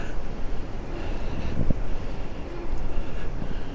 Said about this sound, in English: I'm riding into the wind here as well.